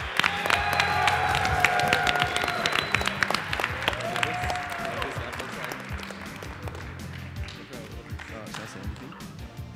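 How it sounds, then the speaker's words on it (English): Tournament audience at the final match of a programming competition applauds and cheers, with sustained clapping, scattered whistles and shouts filling the room over a low murmur of voices throughout. "Can we get a round of applause?"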